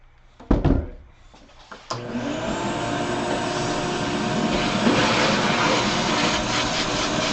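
A shop vacuum runs steadily during a case build, starting up after a couple of brief knocks and then holding a loud, continuous broadband whine close to the microphone for the rest of the clip.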